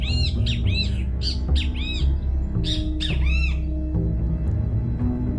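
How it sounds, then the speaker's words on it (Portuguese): A bird sings its classic call as a sound effect in a Portuguese-language drama podcast, with a string of loud chirping squawks in quick bursts over a steady low background hum. "o pássaro mudou para o clássico canto, com o som que levava seu nome"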